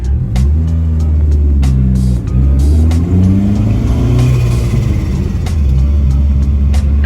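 A lowered widebody Dodge Neon engine rumbles steadily while driving, with low droning tones shifting in pitch and faint scraping of rear tires rubbing underneath; no voices.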